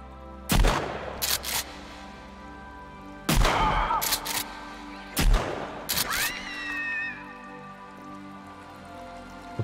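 Three loud, sharp shotgun blasts ring out in Sons of the Forest, spaced a few seconds apart, each with a ringing decay over a quiet background.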